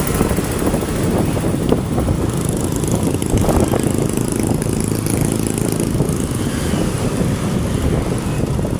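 A motorcycle engine drones steadily and loudly throughout a long road ride to Bulacan, with rushing wind and road noise blended into the continuous roar and no pauses.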